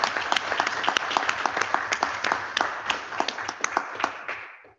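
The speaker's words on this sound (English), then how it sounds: "your answer there got a round of applause" An audience at a Malawi parliamentary group meeting breaks into a sustained round of applause, dense overlapping claps that hold steady for several seconds before tapering off at the end.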